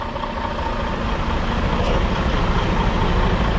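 A truck pulling a trailer maneuvers at a curb during a pipe delivery to a Seattle construction site, its engine a steady close rumble with broadband road noise, no voices.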